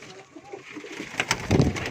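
A female pigeon coos close by, a few soft throaty notes building to a fuller, louder coo toward the end, with faint background rustle.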